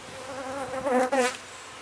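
Honeybees from a colony at the hive buzz close by in a short, wavering drone that swells and dips as individual bees pass near.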